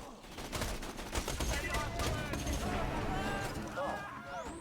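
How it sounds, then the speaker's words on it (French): In Borderlands 2, an iridium gun fires energy bullets in a dense, continuous barrage of rapid shots that sounds loud and close throughout, with sharp zaps on top. "On dirait que ce flingue à l'iridium transforme les balles En énergie"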